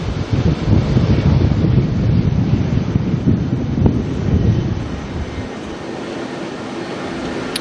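A jet airliner rolls along the runway at Auckland Airport with a broad, heavy rumbling roar buffeted by wind on the microphone, which eases and fades over the last couple of seconds.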